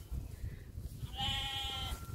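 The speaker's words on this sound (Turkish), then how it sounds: "Aha keçiler de mi geliyor ne?" Goats bleat nearby outdoors: one clear, drawn-out bleat rises over a soft background rumble of wind and movement, fairly quiet and with no talk over it.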